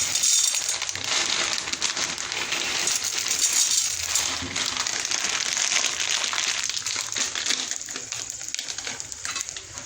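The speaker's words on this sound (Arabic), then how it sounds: "هنزل بقى بكميه المكرونه زي ما انت عايزه، كيس نص كيس حسب احتياجك يعني" Dry pasta tumbles into a pot holding ghee and oil, making a continuous hard rattling, crackling patter of small pieces striking metal that runs for several seconds at moderate loudness.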